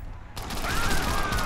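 Rapid gunfire bursts loud and close in the Xbox 360 game Crackdown, a dense fusillade of overlapping shots after a brief quieter moment, with a tonal game sound running beneath.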